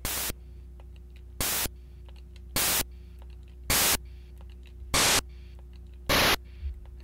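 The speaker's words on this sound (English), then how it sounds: "they're all just different types of white noise." Six short bursts of Game Boy noise-channel percussion from the Carillon Editor tracker, evenly spaced over a low steady hum, each a loud, harsh blast of white noise lasting a fraction of a second, with slightly different tones.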